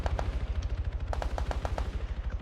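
A 12.7 mm heavy machine gun fires in the video game Arma, a loud, steady rapid hammering of shots in quick bursts with no talking.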